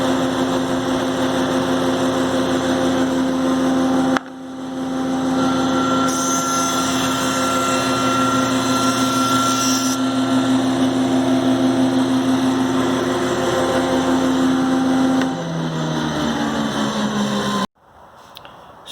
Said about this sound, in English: in taking a very light pass through the planer, you notice I turned about 1/8 of a turn